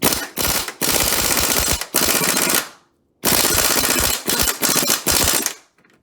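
An impact gun hammers at a 24 mm wishbone bolt on the front driver-side control arm of a 2002 Chrysler PT Cruiser, firing loud rattling bursts broken by short pauses and one longer gap.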